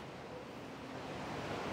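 Water rushes hard inside a cave in Nepal, making a steady, dense roar that swells slightly toward the end, with no voices.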